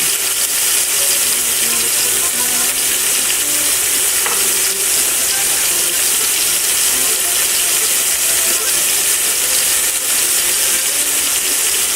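Seasoned pork ribs sear in a hot pan, giving a steady, loud, unbroken sizzle that hisses evenly throughout with faint clicks underneath and no talking.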